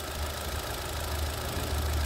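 A 2009 car with a 1.6 EcoTech twin-cam, variable-cam-timing engine and a six-speed automatic idles smoothly under an open hood, making a steady, even low rumble with no voices.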